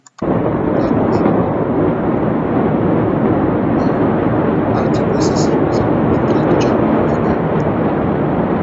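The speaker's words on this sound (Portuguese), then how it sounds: "explosão que ocorreu" A sustained, roaring blast rumbles continuously at high loudness for several seconds after an abrupt onset, a dense, unbroken wall of noise as from an explosion played back from a recording.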